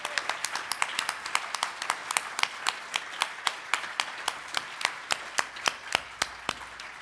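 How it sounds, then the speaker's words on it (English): Sparse, fairly steady hand claps from a small number of people at the 2020 Northwestern Ontario Visionary Awards ceremony honouring nominees and winners: sharp, distinct slaps repeating about three or four times a second, moderately close, with no talking. "let's give one more big old round of applause for all the nominees and all the winners tonight."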